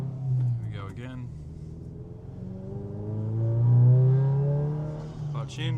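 A manual-transmission car's engine gains revs as the accelerator is pressed again, a steady rising drone that swells toward the middle and stays fairly close, with a person talking over parts of it.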